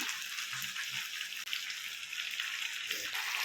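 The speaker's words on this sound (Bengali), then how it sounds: "এখানে কিন্তু মাংসটাকে কষানো হচ্ছে" Meat and potatoes braise in a hot pan with coriander leaves, giving a faint, even sizzle throughout with a brief dip near the middle and no voices.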